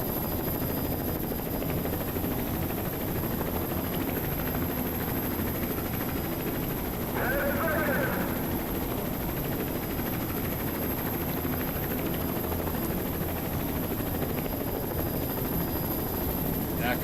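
A helicopter in the Gmod SCP Breach game gives off a steady, loud rotor and engine drone that holds evenly through the whole stretch.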